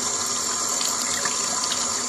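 Tap water runs steadily into a kitchen sink while peeled eggplant for baingan bharta is rinsed under it, a constant close hiss and splash with no talking.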